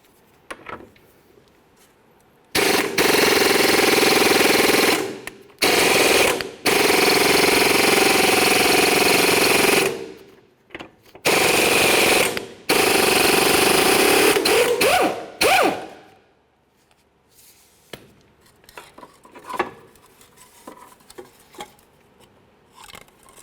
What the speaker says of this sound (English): For this bolt, we're going to use a 21mm socket.